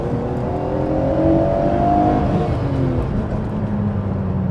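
A Nissan GT-R V-Spec N1 R34 accelerates hard, its engine note climbing through the revs, dipping at a gear change, then rising again, loud and heard from inside the car.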